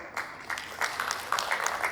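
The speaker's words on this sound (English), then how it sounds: "So bigger round of applause for everyone" Brief, sparse clapping from an audience at a startup pitch event in Chandigarh, individual claps rising in irregular bursts over about two seconds at moderate volume.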